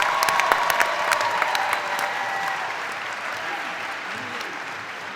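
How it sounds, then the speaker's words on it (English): Commencement audience at Roosevelt University applauds bachelor's degree recipients of the College of Arts and Sciences; dense, loud clapping fills the hall at first, then thins and fades steadily over several seconds. "Could we have one more round of applause for the bachelor's degree recipients in the College of Arts and Sciences?"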